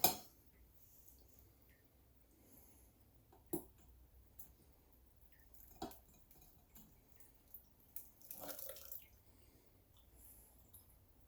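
Blackberry juice drips through a strainer in a quiet kitchen, faint scattered ticks and drops at irregular intervals over low background hush, with a brief clink near the start and a small cluster of drips toward the end.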